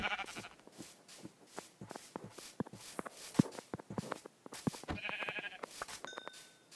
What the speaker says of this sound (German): Oh, noch ein Schaf.